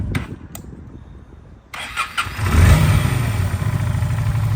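Honda Shadow 400 Classic motorcycle with 43,000 km on it, cranked with a little throttle. A few clicks lead into the starter churning, then the engine catches and settles into a loud, steady, close-up rumble.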